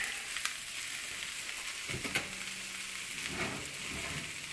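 Bacon steak frying in a hot pan, giving a steady, close crackling sizzle with a few sharp pops, heard alone without talk.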